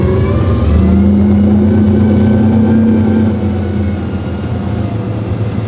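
An electric boat's motor hums steadily with a rising tonal whine as it accelerates to planing speed, then settles into a constant drone with rushing water noise underneath.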